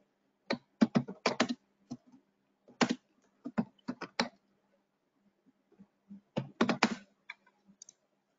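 Keys clatter on a computer keyboard as an alert name is typed, in several quick bursts of close, crisp clicks separated by short pauses, with no talking.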